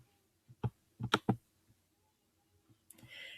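Computer keyboard keys pressed during a digital mapping demonstration, a few sharp close clicks in a quick cluster, then quiet, ending with a brief hiss of other noise.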